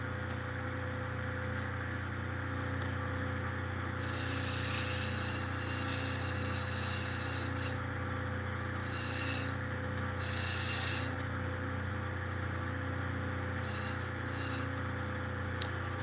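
An Ethiopian opal ground against a coarse stone wheel, a steady motor hum under bursts of harsh rasping grit as the stone is pressed on, close and continuous, with no talking.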